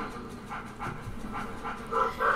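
A ghost dog in Luigi's Mansion pants in quick, rhythmic breaths, fairly quiet and close, with a few higher whimpering tones toward the end.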